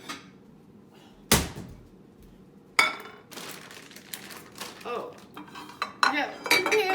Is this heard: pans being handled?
yes